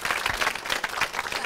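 Brief burst of applause from a school audience, dense clapping from many hands, close and fairly loud over a short moment.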